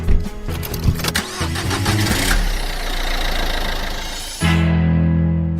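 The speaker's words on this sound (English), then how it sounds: "Gotta start the car." A car engine starts up loud and close. A rattling crank catches into a roaring rev, which then drops into a steady, lower idle hum.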